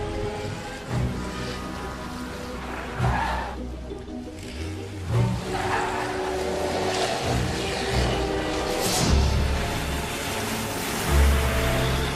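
A car drives along a road with a continuous rumbling engine and road noise, with occasional thumps and swells and muffled voices in the background.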